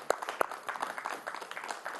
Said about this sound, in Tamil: மிகப்பெரிய கைத்தட்டல்.